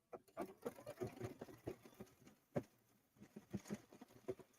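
Home sewing machine stitching a blanket stitch, a soft, irregular patter of needle strikes in short bursts with brief pauses, fairly quiet and close.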